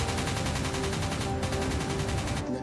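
Cannon shells fire in a rapid, continuous burst during the 1982 sinking of HMS Coventry, dense and loud throughout with no pauses, cutting off near the end.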